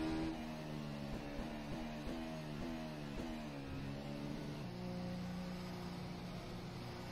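A Zakspeed racing car engine in a sim racing game drones steadily at Bahrain, its pitch rising and falling through repeated gear shifts and revs, with no voices.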